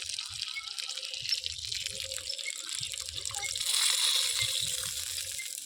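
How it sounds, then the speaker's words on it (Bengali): Water is poured into browned meat curry cooking in a pot, a continuous soft hiss and splash with low bubbling and clinks underneath, moderately quiet and close. "মাংসটা অনেকটা কষানো হয়ে গেছে, এবার জল দিয়ে দেবো"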